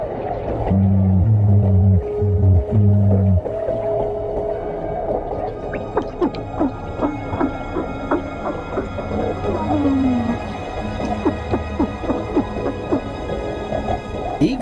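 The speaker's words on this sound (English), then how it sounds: "Even this little porcupine fish bleats around. It creates this sound with its swim bladder." Underwater ambience on a busy reef with a porcupine fish producing rough, bleating grunts from its swim bladder, low droning calls early on and scattered clicks and crackles continuing beneath.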